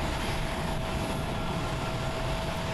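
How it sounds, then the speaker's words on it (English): A Japan Airlines Boeing 737-800 at Haneda Airport, Tokyo, produces a steady, loud, broadband engine roar with a faint high whine, constant throughout with no talk. "Japan Airlines Flight 575 going to OBO on a Boeing 737-800, 13 years old."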